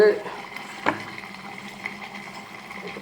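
A curry leaf and garlic kara kuzhambu simmering in a pot, a soft bubbling and stirring under a person talking, with one sharper clink near the start.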